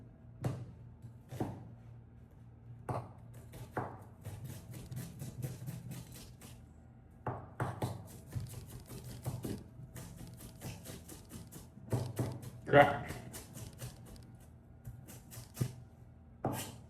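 Knife chopping an onion on a board, sharp close chops in quick bursts separated by short pauses, over a quiet room hum.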